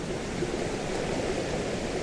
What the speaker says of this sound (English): Got that lovely brook.